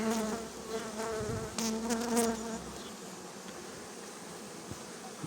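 Honey bees hum and buzz densely around the entrance of a hive as foragers return loaded with pollen, a close continuous drone with individual bees whining past.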